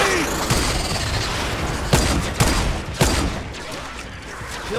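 Grenade blasts and gunfire in the Fortnite: Save the World video game, a loud, dense stretch of shooting with several sharp explosive bangs near the middle, close and continuous.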